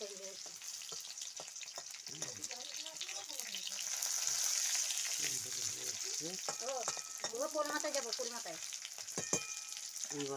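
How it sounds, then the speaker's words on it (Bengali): Flat beans frying in a pan and being stirred, a steady hissing sizzle with scraping stirs, while a voice is heard intermittently over the cooking noise. "সিম ভাজা হয়ে এসছে আমরা"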